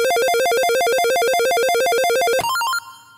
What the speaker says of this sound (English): we also have a bonus telephone sound that can be used with chords